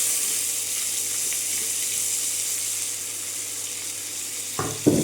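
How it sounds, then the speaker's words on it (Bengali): Two medium onions, thinly sliced, frying in a pan of spiced oil for a Mughlai chicken dish, a soft continuous sizzle heard alone, ending with a short clatter. "সুন্দর করে পেঁয়াজটাকে ভেজে নেব।"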